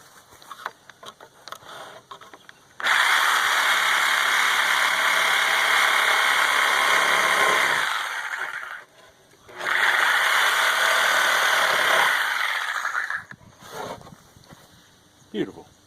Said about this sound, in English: Now I'm going to sawzall it.